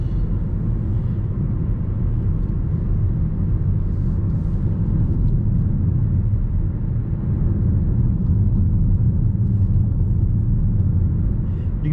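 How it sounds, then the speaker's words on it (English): Steady low road and tyre rumble inside a Volvo XC40 T3 Momentum crossover cruising at speed, a constant broadband drone with no distinct events or speech. "All you hear is a little bit of tyre noise."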